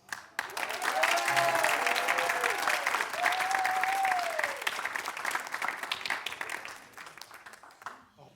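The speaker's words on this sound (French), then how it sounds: "que je vous demande d'applaudir ce soir" A concert hall audience breaks into loud, sustained applause that swells quickly and holds before slowly thinning out, with a voice speaking over it through the middle.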